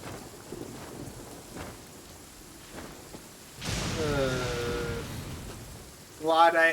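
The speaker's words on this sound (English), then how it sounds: "Oh, great. It's raining and lightning outside." Video game thunderstorm: steady rain hiss runs throughout, then a loud rolling thunder rumble swells midway and holds for a few seconds, with a brief voice at the end.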